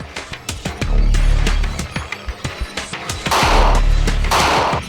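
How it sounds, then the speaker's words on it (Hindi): Bursts of loud gunfire crack repeatedly as criminals fire on police, over a dense, noisy background, with sustained heavy volleys toward the end. "जराइम पेशा नासिर की जानिब से कानून के एहलकारों पर गोलियां बरसाई जाने लगीं"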